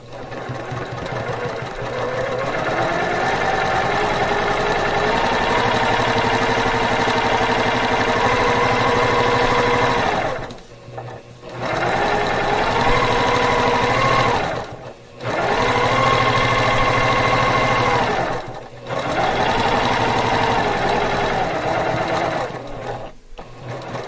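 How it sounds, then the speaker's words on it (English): A sewing machine runs top stitching along the edge of a fabric reading pillow, whirring loudly and steadily in long runs broken by three short pauses. "now I'm going to top stitch up here as well"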